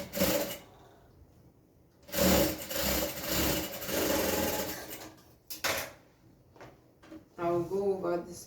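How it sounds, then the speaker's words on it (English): A sewing machine stitches a rope gown in short, loud bursts separated by quiet pauses, with a voice speaking briefly near the end. "Then I'll start sewing from that end."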